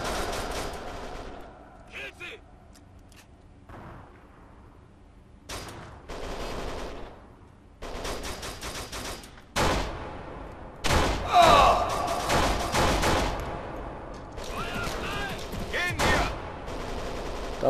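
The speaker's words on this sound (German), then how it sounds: "Verdammt, hört auf, auf mich zu schießen." Gunfire rattles through a parking garage in Kane and Lynch 2: repeated sharp bursts and volleys of shots, loud and close, come between quieter gaps, with a voice heard now and then.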